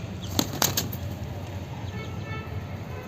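A short burst of pigeon wing flaps close by as the bird is released, a few quick beats in the first second, then steady outdoor background noise.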